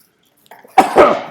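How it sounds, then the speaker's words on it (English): A single loud, close sneeze bursts out after a brief inhale, an abrupt explosive burst trailing into breathy noise during a lecture in a quiet room. "I had to sneeze there"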